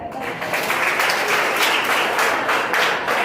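A crowd claps steadily at a school science day event, a dense, loud patter of applause lasting several seconds with voices mixed in.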